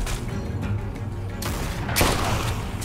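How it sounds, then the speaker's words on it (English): Gunfire during a gate standoff in Telltale's The Walking Dead: A New Frontier, a steady close volley of shots forming a continuous rattling burst with a stronger crack near the end. "All right, I guess we're shooting now."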